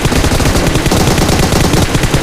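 Continuous loud automatic gunfire from PUBG Mobile, rapid dense bursts of shots filling the whole stretch without pause.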